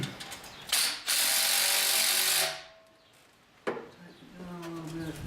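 A hand ratchet clicks rapidly while tightening down a part on a car hood, a loud buzzing run of pawl clicks, then a pause and a second, quieter ratcheting burst.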